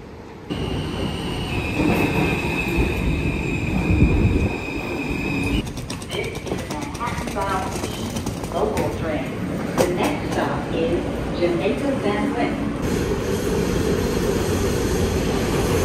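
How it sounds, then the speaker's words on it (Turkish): A New York subway train pulls into a station with a loud, continuous rumble, high metallic wheel squeals and clattering. The noise stays loud throughout, with voices faintly underneath. "Metronun gelmesini bekliyorum."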